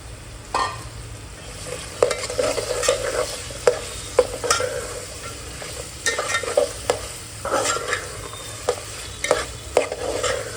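Mixed vegetables for veg pulao fry in a pan while being stirred repeatedly, a steady low sizzle under regular scraping and clacking of a spoon against the pan, fairly close and with no speech.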